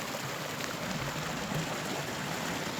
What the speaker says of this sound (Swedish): Ni ser underbart porlande vattnet här vid en liten bro.